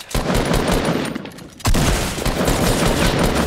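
Rapid, loud automatic gunfire from a Fortnite squad fight, two dense bursts separated by a short gap, close and harsh.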